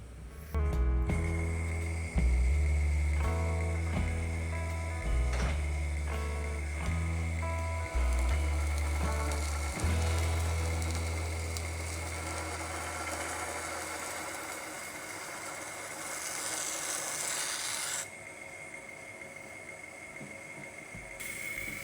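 A machine hums loudly on a workbench while a new Japanese santoku knife with a broken tip is reground to razor sharpness, the steady drone stepping in pitch and level, with a hissing scrape near the end.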